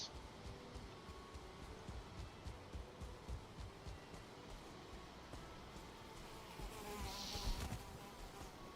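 Deathsquito, a giant mosquito creature in the video game Valheim, buzzing faintly and steadily over a low game background, with a louder, closer high whine swelling near the end.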